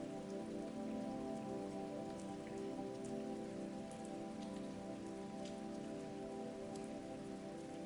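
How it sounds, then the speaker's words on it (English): Rain falls steadily over desert ground, a soft, even patter of drops on the surface that stays constant throughout, with no talking. "Rain fell on the desert."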